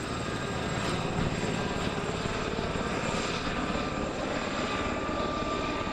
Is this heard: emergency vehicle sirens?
no